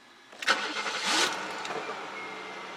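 A 1995 Chevrolet Monte Carlo LS with 82,000 miles cranks and fires up, with a brief whirring starter, a loud catch, then a settling, steady idle close by.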